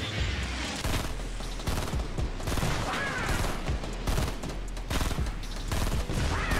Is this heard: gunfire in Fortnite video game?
yes